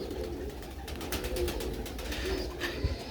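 Soft, low cooing of a Sialkoti rooftop pigeon held for sale, a few muffled coos over faint rustling and handling noise close by.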